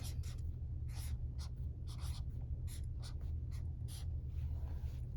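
Pencil or marker scratching out a word by hand on paper during a classroom spelling lesson, a run of short close strokes and pauses over steady low room hum, with no talking.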